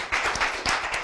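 A brief burst of audience clapping at a motocross awards event, a second of close, dense hand claps.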